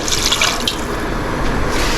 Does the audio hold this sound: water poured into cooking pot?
yes